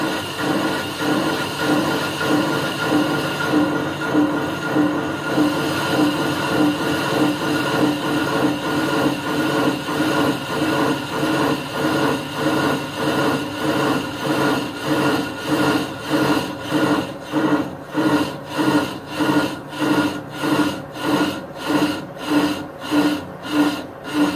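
A brake lathe trues the surface of a rusty brake rotor, a loud continuous scraping cut with a steady rhythmic pulse from the spinning rotor that grows more pronounced toward the end.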